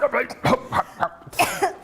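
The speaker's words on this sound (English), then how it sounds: "She's coughing and she had a bit of wind" Woman coughing after fan air blew into her mouth, a handful of sharp close coughs in quick succession with light throat sounds between them.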